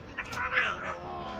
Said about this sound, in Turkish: Anne kedi artık yavrularına kızıyor.